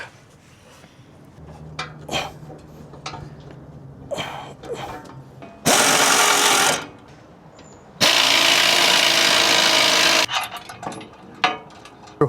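A power driver runs screws during a bumper install on a 2024+ Toyota Tacoma in two loud, sustained whirring bursts, close by, with clattering tool and part handling around them.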